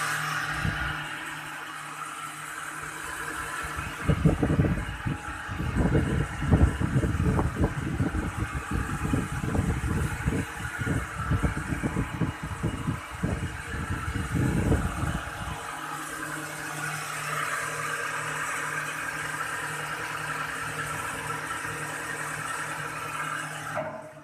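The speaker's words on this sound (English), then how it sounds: "So when you press the run button, the motor starts rotating." An induction motor driving an artificial wind generating unit runs with a steady mechanical whir and hum, louder with rough low-end rumble for several seconds after starting, then settling into a continuous even drone.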